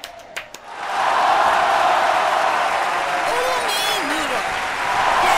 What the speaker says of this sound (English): Wait till that crowd slows down.